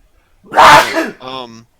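A single loud, close human sneeze bursts out sharply, followed immediately by a short voiced tail in a quiet room.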